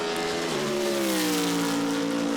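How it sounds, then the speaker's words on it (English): A BMW GT race car in free practice at Monza, its engine note loud and sustained as it passes on track, the pitch gliding downward. "And that BMW still makes a fantastic noise, doesn't it?"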